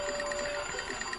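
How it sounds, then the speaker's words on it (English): Cursed phone ringing in an Ed, Edd n Eddy cartoon, a steady trilling bell pulsing quickly and continuously at a moderate level, with no talk over it. "Eddy gets a cursed phone from Rolf, and every time it rings"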